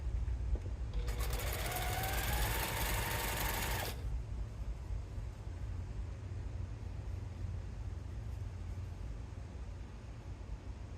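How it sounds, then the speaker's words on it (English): A sewing machine whirs rapidly for about three seconds, its pitch rising as it runs, then stops, leaving a steady low hum. "I'm gonna fix this little sewing machine."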